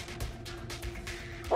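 A dog barks in a horror video game, giving a few short yipping barks with a whimpering tone against low game ambience, and a louder thump lands at the very end.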